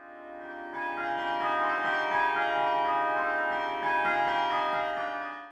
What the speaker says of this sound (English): it's the sound of the carillon bells that truly bring the place to life